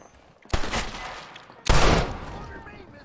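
Two loud gunshots ring out in the Red Dead Redemption game, a first blast and then a heavier second about a second later, each trailing off into a short echoing decay.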